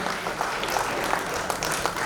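Audience applause for conference panelists at a Web3 funding panel on a mainstage, steady dense clapping filling the room with no break, moderate in level.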